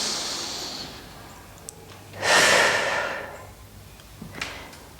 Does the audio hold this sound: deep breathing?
yes